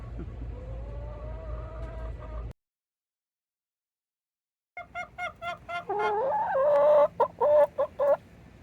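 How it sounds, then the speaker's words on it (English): Hens in a backyard coop cluck in a drawn-out call, then after a brief silence break into rapid, louder clucking bursts and squawks close by, with no talk. "Chickens know that I'm out here, and they're back there just a yakking."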